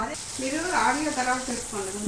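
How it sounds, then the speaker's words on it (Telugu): Curry leaves and green chillies crackle and sizzle in hot oil for a tempering, a steady close frying hiss with stirring that runs through the whole moment, no one speaking. "కరివేపాకు పచ్చిమిరపకాయలు వేయాలి ఇట్లా వేసి కొంచెం వేగాలి"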